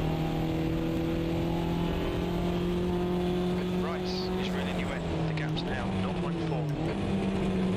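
A MINI Cooper JCW race car in the sim racing game Automobilista 2 drones with a loud, steady engine note that dips and rises through gear changes and a slide, with other cars' engines in the background.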